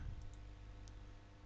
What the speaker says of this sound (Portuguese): Eu cliquei com o botão direito para poder mudar o nome.